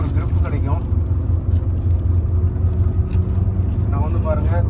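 A car engine pulling steadily in second gear at about 3000 rpm on a hilly highway, a loud continuous low drone with road rumble, a voice talking over it at the start and end.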